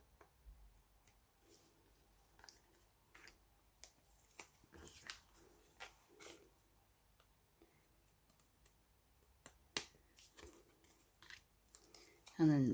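Paper card being trimmed with scissors while making a Valentine's card, giving soft intermittent snips and rustles close by, with quiet handling noises between cuts.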